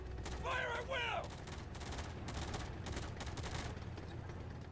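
Rifle squad gunfire in the War Alert video game, a sustained crackle of shots and volleys at moderate loudness, with a brief voice call over the start.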